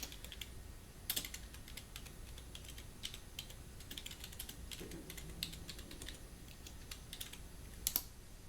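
Fingers tap away at a computer keyboard beside an old eMachines T1090 desktop in quick, uneven bursts of light clicks, with a few sharper key strikes standing out, soft and close in an otherwise quiet room.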